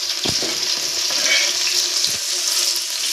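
Chopped tomatoes sizzle and fry in a hot pan for a Karnataka-style churmuri susla, with a steady hiss and a few soft scraping strokes of a stirring spoon, and no voices.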